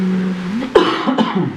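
A single sharp cough in a quiet meeting room, followed by a brief throat-clearing rasp, close and alone with no talk.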